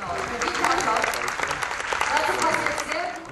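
Audience applause for German federal president Joachim Gauck, steady dense clapping from a crowd, moderately loud, with some voices mixed in.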